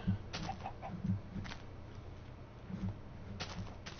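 Chickens clucking in Minecraft, several short close clucks in scattered bursts over a low background hum.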